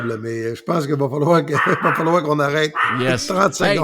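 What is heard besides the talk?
guard dog barking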